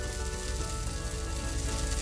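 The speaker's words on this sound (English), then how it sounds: "You should hear that sizzle. That's when you know your pan is hot, when you put your dosa batter on it." Dosa batter sizzling on a hot pan, a dense, steady crackling hiss that runs close and even through the whole short stretch with no talking.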